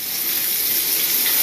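Steak sizzles steadily in a hot pan, a dense continuous hiss and crackle that holds at the same level throughout with no talking.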